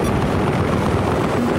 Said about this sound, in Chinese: I spotted an enemy helicopter.